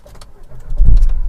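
Nissan Qashqai 1.5 being started with its key: a short crank and low rumble as the engine catches, building to a loud, close low-frequency roar within about a second.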